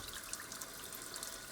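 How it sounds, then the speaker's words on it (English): Tap water runs steadily from a faucet in the kitchen of an abandoned farmhouse in the French countryside, a continuous bright, splashy rush close by with no voices. "Apart from the electricity, the water is also still running."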